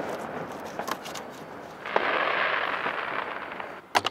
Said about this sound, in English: They go shooting fireworks